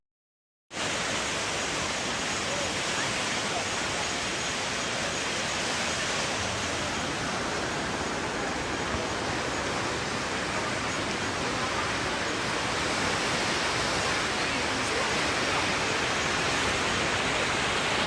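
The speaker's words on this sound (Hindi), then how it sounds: "अभी मैं आगे आपको है ना अलकनंदा नदी का शोर सुनाऊंगी।" Fast-flowing Alaknanda river roaring at the Devprayag confluence, a loud, steady broadband rush of churning water that fills the whole stretch without a break, close and continuous with no voices.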